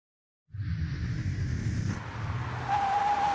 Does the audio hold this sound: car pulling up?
yes